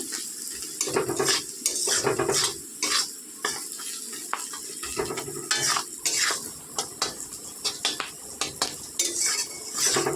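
Spice paste and onions being stirred in an oily pan for a Bengali puti fish tel jhal, with steady sizzling frying and repeated scrapes and clinks of a utensil against the pan, close and continuous with no talk.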